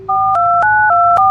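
Touch-tone telephone keypad beeps dial a number: several short, clean dual-tone pulses in quick succession, close and clear over a faint background hum.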